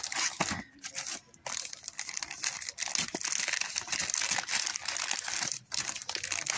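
Plastic packaging crumples and crinkles while a mystery box is unboxed, a continuous close rustle with sharper crackling bursts and brief pauses.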